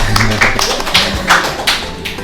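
Applause at a school podcast honoring young teachers, a few people clapping in uneven bursts, close and fairly loud, over a soft room background.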